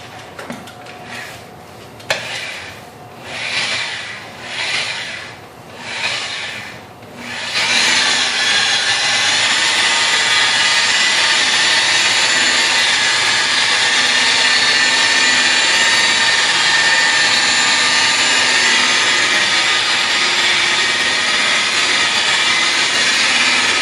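A car buffer fitted with a wool pad and set to about 1800 RPM polishes clear coat wet with compound. A few rising and falling whirs give way to a loud, steady high whine that runs close and alone to the end.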